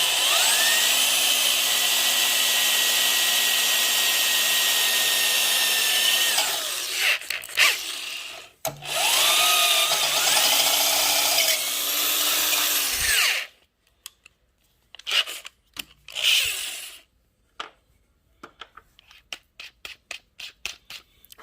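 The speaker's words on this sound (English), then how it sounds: "So we're going to drill through this chrome bumper." A power drill bores through the chrome rear bumper of a Chevy S10 pickup, whining steadily and loudly for several seconds, stopping, then starting again in shorter bursts that end in a few brief, sputtering pulses.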